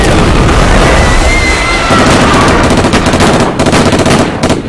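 Loud, dense volleys of gunfire crackle through a staged battle at a film-set village, rapid bursts running nearly continuously and growing more broken toward the end.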